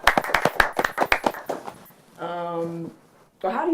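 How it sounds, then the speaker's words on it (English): Brief hand clapping for a podcast guest, a quick burst of claps that blends into the host's talking, followed by a short sustained tone and more speech. "first we should give her a clap for even coming on the show"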